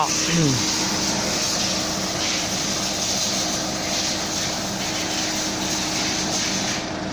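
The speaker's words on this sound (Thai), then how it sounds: "น่าจะเป็นเครื่องบินสำหรับเช็คสภาพอากาศ" Steady broadband drone of a weather survey aircraft engine passing overhead, constant and fairly loud throughout, with a faint hum beneath.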